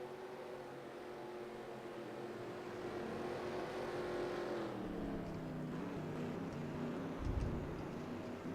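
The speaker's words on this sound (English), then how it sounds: "as all the cars start moving on, following the safety car" Race cars rolling behind the safety car in the NASCAR Racing 2003 video game at Montreal, a steady droning engine hum with a slowly shifting pitch, moderately quiet and continuous, with a brief low thump near the end.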